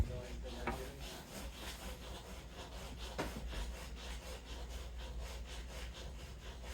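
A long drill bit grinds and rasps into the wooden neck joint of a vintage Vega archtop guitar, close and steady, with repeated back-and-forth strokes and a low hum beneath.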